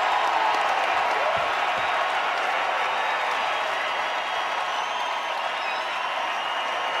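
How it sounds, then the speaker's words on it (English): Hockey arena crowd cheering and applauding after a goal, a dense, steady roar of voices and clapping filling the rink for several seconds, loud and continuous. "Listen to this crowd."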